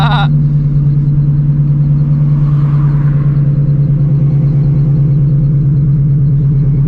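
A steady low engine rumble of race cars, including an 800 hp Shelby GT350, idling and rolling through a parking lot cruise, loud and continuous, with a brief higher tone at the start.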